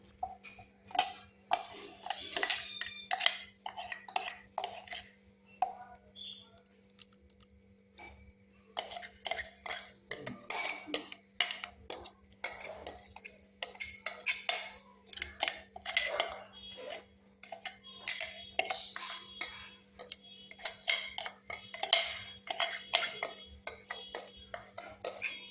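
Chicken for a special chicken biryani being worked together in a bowl with ginger, garlic, onion, green chili and tomato paste: repeated close, uneven clinks and scrapes with short pauses, and a steady low hum underneath.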